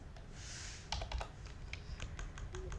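Keys clatter on a computer keyboard during a Java programming lesson, as Shift-arrow presses and Control-C shortcuts give a run of close, crisp, uneven clicks with no talk.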